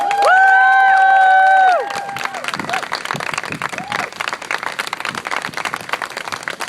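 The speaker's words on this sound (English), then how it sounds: "give yourselves a round of applause" A crowd at a Planned Parenthood of Wisconsin rally bursts into applause and cheering that starts loud and full, then settles into steadier clapping with scattered shouts. A few voices are heard over the noise.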